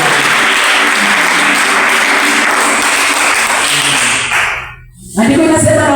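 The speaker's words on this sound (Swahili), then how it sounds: "Pigia Yesu makofi." A church congregation at a midnight prayer vigil sermon claps for Jesus, a dense, loud, sustained wash of applause that briefly thins and dips near the end before surging back to full strength.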